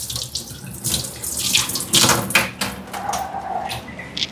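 A white cloth is rinsed under running tap water, a close splashing gush over a sink that swells and dips as the fabric is moved and squeezed in the stream.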